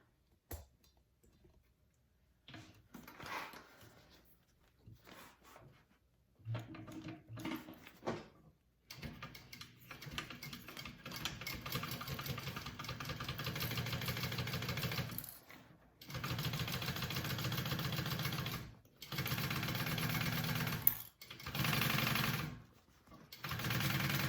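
A sewing machine stitches a handbag, running in long steady bursts that stop briefly and then start again, close and moderately loud with no talking.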